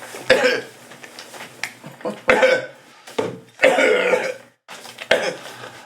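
Several harsh coughing fits come in bursts, separated by short pauses, loud and close, with throat-clearing sounds between them.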